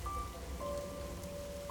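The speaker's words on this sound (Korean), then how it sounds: "어둡고 조용한 지하도에 빗소리가 울려 퍼지고 있었다." Heavy rain echoing through a dark, quiet old underpass, a steady, even wash of droplets with no voices.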